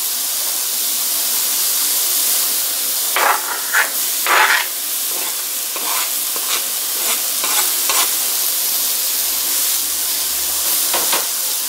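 Garlic, ginger and carrot stir-fried in a pan for shrimp noodles, a steady sizzle with intermittent scraping stirs and spatula clinks, close and alone without talk.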